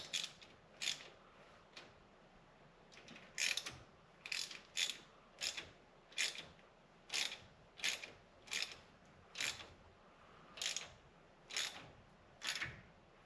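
Ratchet clicks while rocker arm nuts are snugged down over the pushrods on an S10 engine. About twenty close, sharp bursts come in a steady rhythm with no talking.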